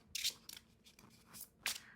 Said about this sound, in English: We're going to shuffle your tarot deck.